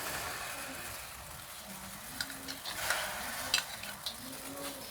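Red chilies and bird's eye chilies stir-fried with garlic in a pan, a soft continuous sizzle with a few faint scraping taps of the spatula, quiet and without voices.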